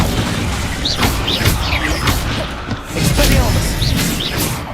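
Incendio fire spell cast in the video game Hogwarts Legacy, loud booming bursts with crackling whooshes and whistling effects, dense and close.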